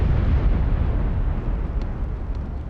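German artillery shelling on a First World War battlefield, a heavy low rumbling explosion that rolls on and slowly fades, loud and close, with no voices.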